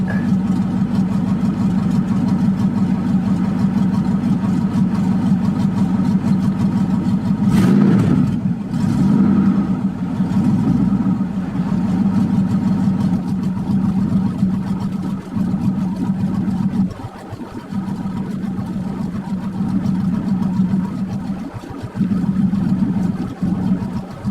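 A Firebird with a swapped 5.3 LS V8 idles after a cold start, a steady low rumbling drone with a brief rise in revs partway through, close and continuous with no talking.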